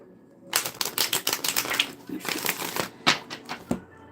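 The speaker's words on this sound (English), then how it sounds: "Get you some good shuffles in, Cancer." Quick riffling and slapping of tarot cards being shuffled up close, a rapid series of crisp flutters with soft taps between.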